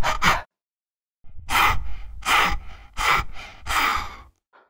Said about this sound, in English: Sounds like you're out of breath.